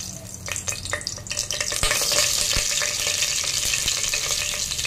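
A bay leaf dropped into hot mustard oil for a Bengali khichuri tempering, giving a loud, steady sizzle that swells and holds, with a few sharp clicks of a utensil against the pan.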